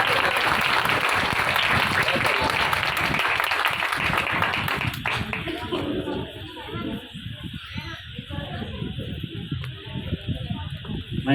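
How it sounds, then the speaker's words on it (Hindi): An audience at a Ganpati festival bursts into loud applause after a motivational speech, dense clapping for about five seconds that thins into scattered claps, chatter and talking as it fades. "ये जोरदार तालियां सर के लिए होनी चाहिए"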